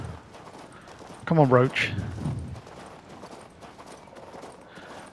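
Horse hooves clip-clop briefly in King's Bounty 2 as a rider mounts, a short burst of steps amid game sounds while someone talks over them.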